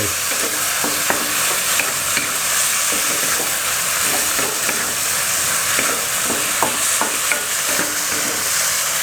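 Minced pork stir-fried in a pan for larb moo gives off a loud, steady sizzle, with continuous scraping and stirring strokes up close and no voices.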